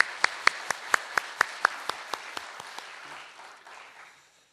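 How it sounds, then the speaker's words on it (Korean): In a Korean church, a congregation claps for the choir in a rhythmic unison beat, about a dozen sharp, evenly spaced claps over softer scattered clapping, all fading away to quiet. "우리 찬양대 새로운 멤버들과 우리 찬양대 전체를 위해서 격려의 박수 한번"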